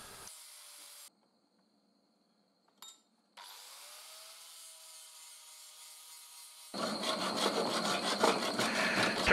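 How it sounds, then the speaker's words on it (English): Steady rasping of a chainsaw file worked around a groove in metal, a continuous scraping that grows louder and harsher toward the end after a brief quiet gap. "I use a chainsaw file and run around and make the groove nice and smooth"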